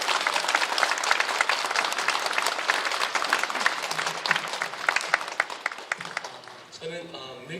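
A church congregation at a prayer meeting claps loudly to welcome a visiting missionary, dense crisp hand claps that thin out toward the end as a voice begins speaking.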